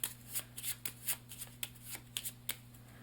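A thin draw stack of cards being shuffled during a solo Arkham Noir game, a series of short crisp riffling bursts at an irregular rhythm, close and fairly quiet over a low steady hum.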